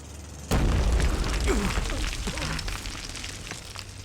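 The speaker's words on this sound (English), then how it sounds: "the explosives are being lit" Explosives blasting underground in a coal mine give a sudden loud boom, followed by several seconds of heavy rumbling and debris that slowly fade.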